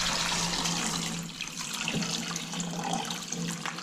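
Tap water runs steadily into a pot over eggs, a continuous close rushing and splashing stream that fills the clip without talk.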